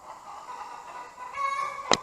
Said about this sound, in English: as you can see, there's a chicken on it.